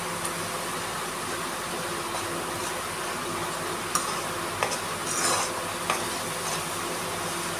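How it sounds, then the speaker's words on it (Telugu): Food being stirred and mixed in an oily pan, with a steady soft scraping and faint sizzle throughout, and a few sharper utensil taps against the pan near the end. "ఇలా కలుపుకోవాలి."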